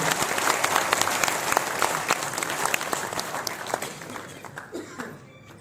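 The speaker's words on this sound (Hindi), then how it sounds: "एक बार सभी तालियां बजा करके आदेशित कर दीजिए।" An audience at a Rajput community gathering honouring Kshatriya ancestors breaks into steady, full applause, a dense wash of many hands that holds strong and then thins out toward the end.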